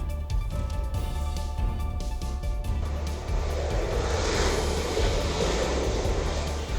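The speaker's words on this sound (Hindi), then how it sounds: "ब्रिटिश रॉयल नेवी का फाइटर जेट F-35B ने आज फाइनली उड़ान भरी" British Royal Navy F-35B fighter jet taking off from the main runway at Thiruvananthapuram airport after a technical fault, a loud steady engine roar that swells into a broad, rushing blast as the jet gathers speed.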